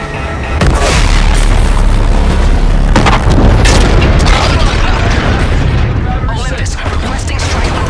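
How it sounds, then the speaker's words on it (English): Spectral cannon fire and heavy explosions in the video game Call of Duty: Infinite Warfare, a loud continuous roar of booms and blasts filling the scene, with radio voices mixed in. "Spectral cannon is online."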